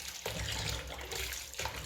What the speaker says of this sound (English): So I'm going to wash it with water now.